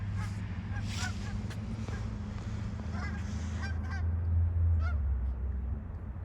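Several ducks honk and call overhead in a park at Mill Lake, Abbotsford, faint and somewhat distant, over a steady rumble of wind and background noise.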